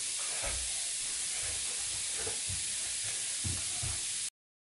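A bath bomb fizzes steadily in water, a continuous close hiss with faint low bubbling pops underneath, then the sound cuts off abruptly.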